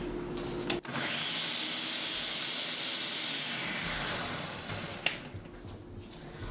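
A blender runs steadily, whirling cornbread batter smooth for a keto tamale pie topping, with a click as it starts and a clunk near the end.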